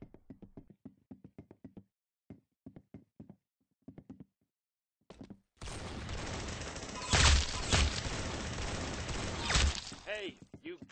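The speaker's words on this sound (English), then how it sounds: "Very good shooting." Gunfire in the Arsenal video game: a run of short, sharp knock-like pops gives way to a loud, dense stretch of sustained rapid shooting, with heavier blasts standing out near the middle and toward the end.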